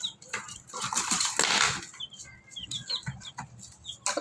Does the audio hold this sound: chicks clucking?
yes